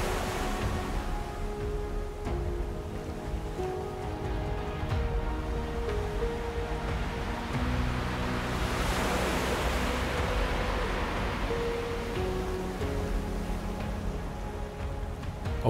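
Waves crash against rocks along the Icelandic sea coast on a windless day, a steady broadband surf roar that swells mid-clip, heard alone with no voices.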